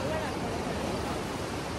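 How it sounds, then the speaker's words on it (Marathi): Swollen Vashishti river in flood at Chiplun in Konkan, heard as a steady, loud broadband roar of rushing turbulent water with no breaks, like surf, continuing for the whole stretch. "नदी खवाळली इथं"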